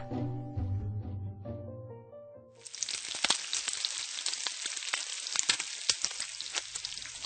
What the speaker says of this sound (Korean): 달궈진 프라이팬 위에 호주산 채끝 스테이크를 올렸다